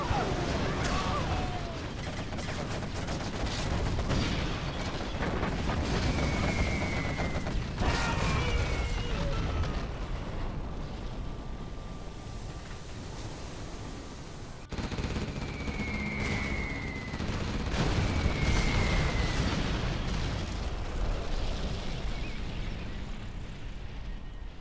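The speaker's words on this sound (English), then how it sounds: "Artillery comes in on another airfield." Video game artillery fire arrives as repeated booming bursts and rumbling impacts, with two whistling shell tones sliding through at intervals over a continuous battle din.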